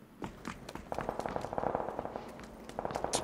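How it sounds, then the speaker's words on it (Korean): Sharp, crackling bursts of an in-game grenade exploding in a first-person shooter, several quick pops and rattles at moderate distance in a busy battle mix. "뒤에 수류탄 사운드"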